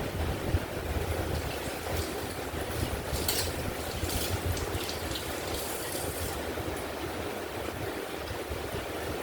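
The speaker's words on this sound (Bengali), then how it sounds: "প্লেট ধুয়ে নিই" Water runs steadily from a tap as a plate is washed in a home kitchen, a continuous broadband splashing hiss with faint clinks, close and fairly loud throughout, with no talking.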